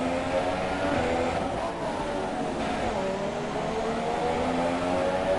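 Sauber F1 race car engine from the F1 2017 video game at the Monaco street circuit, a steady loud droning whine holding across the whole stretch with slight pitch shifts and no talk.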